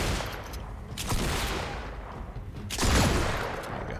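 Rapid bursts of weapon fire in Fortnite Save the World, loud close cracks and booms clustered around two heavier volleys with rumbling tails, no speech.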